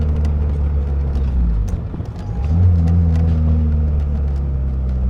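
A 1999 Mitsubishi Eclipse GS Spyder drives through Flint, its engine droning low and steady, briefly dipping before revving up again with a rising, rumbling pitch heard from inside the car.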